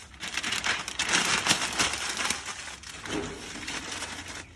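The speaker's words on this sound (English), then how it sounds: "you take 3 pieces of newspaper, you crumple them up, and you put them underneath." Newspaper sheets crumpled by hand to stuff under a charcoal chimney starter for smoking BBQ spare ribs, a close, steady crackling and crinkling rustle that swells and fades over several seconds with no talking.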